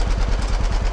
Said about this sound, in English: this is my 1948 model, it's a B model tractor